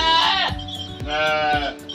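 Pet goats kept under a shelter bleat loudly and close by, two or three wavering calls overlapping in quick succession.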